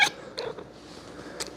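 A pet cat makes short, odd, creaky meows and chirps in a quiet room, three brief calls spread across a moment of near silence.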